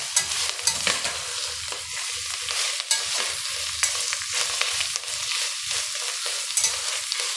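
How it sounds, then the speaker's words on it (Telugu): Chicken biryani in a single pot is stirred briskly with a spoon, producing repeated scraping and rustling strokes over a steady sizzle, close and fairly loud. "ఇప్పుడు ఒకసారి కలుపుకుందామండి."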